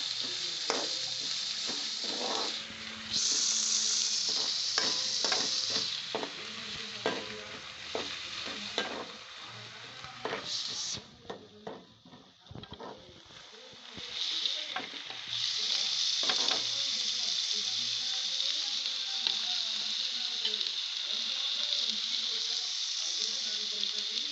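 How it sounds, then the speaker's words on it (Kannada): Masala avalakki (flattened rice) fries with a steady sizzle in a pan while a spoon stirs and scrapes it in repeated clattering strokes, close and fairly loud, with a brief quieter gap midway. "ಸ್ವಲ್ಪ ಕೈ ಆಡಿಸ್ರಿ. ತಳ ಹಿಡಿದ್ರೆ ಟೇಸ್ಟ್ ಚೆನ್ನಾಗಿರಲ್ಲ."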